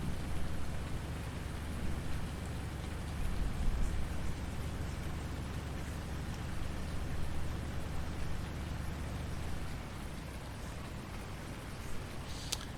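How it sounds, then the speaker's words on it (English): Steady rain, either at home or in Farming Simulator 19, falls as an even wash of patter with a low rumble underneath and a few louder drops, continuous throughout with no talk. "It's actually raining at my house harder than it is in the game right now."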